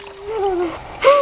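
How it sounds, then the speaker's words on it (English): Ducklings splash in water up close: brief, wet splatters, with thin high peeps over the top and a sharper burst of splashing near the end. "They splash so much."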